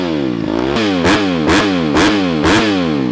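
A 2020 Honda CRF250R with a Yoshimura exhaust and the spark arrestor sleeve removed revs hard in quick, evenly spaced blips, four or five rapid bursts. The bike is loud and close, and no one talks.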